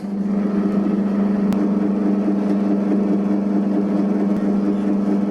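An electric stand mixer kneads whole wheat bread dough with evaporated milk and egg, giving a loud steady motor hum that holds constant throughout with faint clicks.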